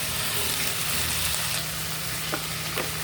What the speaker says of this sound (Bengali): তেলটা গরম হয়ে গেছে, দিয়ে দিলাম একটু জিরা, একটা তেজপাতা 2 টুকরা করে দিয়ে দিলাম।